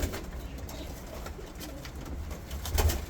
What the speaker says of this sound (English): So Archangel is one of my favorite and very peaceful pigeons.